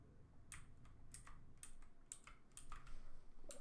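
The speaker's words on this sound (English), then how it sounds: "it is a bit hard to keep the speed limit whilst using the keyboard" Computer keyboard keys tapped while driving in Euro Truck Simulator 2, a few scattered clicks spaced about half a second apart, quiet and close over a low steady background hum.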